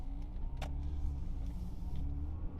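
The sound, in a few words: Citroën Xsara VTS engine warming up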